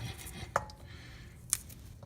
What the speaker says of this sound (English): I got a couple garlic cloves here, just gonna crack and cut them up.